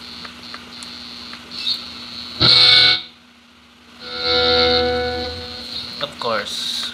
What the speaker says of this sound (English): Or even the decay of the reverb.